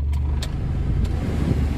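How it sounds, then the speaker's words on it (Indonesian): An old car's air conditioner is switched on while the engine idles. A steady low hum and whir of the running car and AC continue alone, with a few faint clicks near the start. "AC-nya kita nyalakan."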